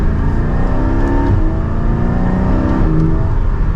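A Porsche 718 Spyder engine revs hard under acceleration from inside the car, rising and dropping in pitch with quick PDK gear shifts, loud and continuous.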